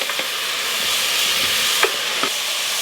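Tomato pieces hit a pan of sizzling mirepoix for tomato soup. A steady loud frying hiss fills the clip, with a few brief clinks and stirring scrapes near the end.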